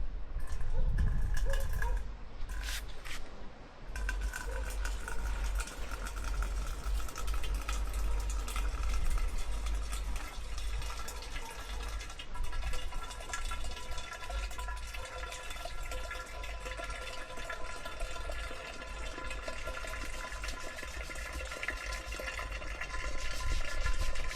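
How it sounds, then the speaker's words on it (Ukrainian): Boiling water pours steadily into a glass bottle over cleaning powder, a continuous splashing, gurgling flow with some clinking, close up and fairly loud throughout. "зараз насипали порошок і заливаємо просто гарячою водою"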